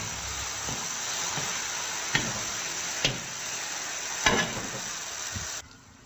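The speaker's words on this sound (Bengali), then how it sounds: "এটাকে ভালো করে নাড়াচাড়া করে ভাজতে হবে যতক্ষণ না হয়।" Ingredients for a posto dish are stirred and fried in a pan: a steady hissing sizzle with a few sharp spatula knocks against the pan, nearby, before the sound cuts off at the end.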